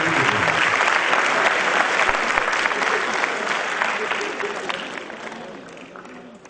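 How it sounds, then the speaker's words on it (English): Dense audience applause at a symposium session fills the room, steady and loud before gradually tapering off. "A big round of applause."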